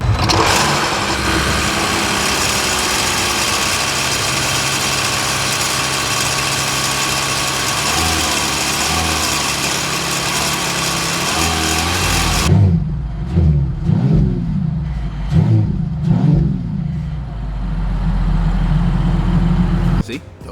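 The engine of a 2026 Mercedes-AMG E 53 Hybrid sedan runs loud and steady with a droning tone for a long stretch, then drops to a lower rumble punctuated by several revving surges, with some talking over it.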